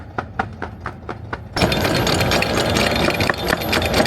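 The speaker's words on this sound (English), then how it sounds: "we're going to motor the whole way. So we are going to break in our beautiful Yanmar engines" Engines on a sailboat motoring between Grenada islands, a pair of new Yanmar engines being broken in, a steady rhythmic thumping idle that swells into a loud, dense mechanical roar with wash noise.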